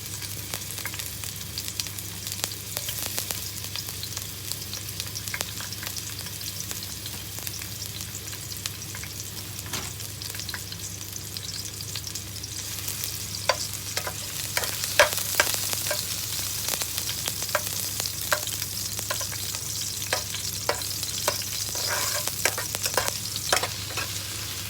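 Garlic sizzles steadily in hot cooking oil in a pan, with a constant frying hiss and frequent sharp scrapes and taps from stirring, fairly close and without talk.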